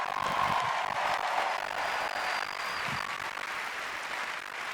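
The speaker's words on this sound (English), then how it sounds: "Another round of applause, please," Large crowd applause at a live video game showcase event, a dense continuous roar of clapping and cheering held at constant level throughout.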